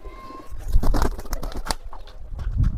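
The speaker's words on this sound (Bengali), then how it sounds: "অনেক সুন্দর একটা কবুতর।" Pigeons, a fancy breed kept in a cage, coo and flap their wings close by, giving soft throaty calls and a few rustling wingbeats in steady bursts with no talk.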